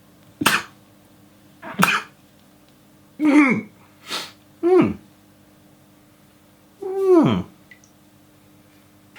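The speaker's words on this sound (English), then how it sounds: "And now, sneezing without a mouth." Several sneezes and sniffly bursts from a person wearing a facial prosthetic that covers the mouth, spaced irregularly with quiet gaps between them, close and fairly loud.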